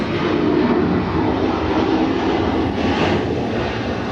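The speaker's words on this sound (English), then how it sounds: "Got two planes coming in at the same time over there" Airliners coming in to land at Atlanta airport, a loud steady engine roar that holds throughout without any voices.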